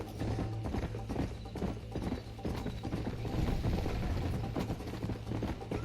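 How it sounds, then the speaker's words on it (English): Horse hooves clip-clop steadily and continuously through Red Dead Redemption gameplay, with a dense, even gait and no talking over it. "¡Está loco el caballo!"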